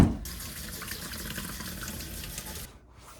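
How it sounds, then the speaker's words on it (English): Hot tap water runs steadily from a faucet over a frozen mouthwash bottle in a frigid Alaska setting, a constant close hiss and splash that stops abruptly near the end. "just gonna run that over some hot water."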